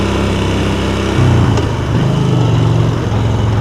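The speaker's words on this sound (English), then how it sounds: "Testing out the off-road abilities of the bike, of the Yamaha Bolt." A 2017 Yamaha Bolt R-Spec motorcycle engine drones steadily up close while riding over bumps and potholes on a Toronto street, its pitch shifting as the throttle changes, with wind noise throughout.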